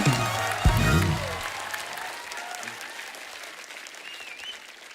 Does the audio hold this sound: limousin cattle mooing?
no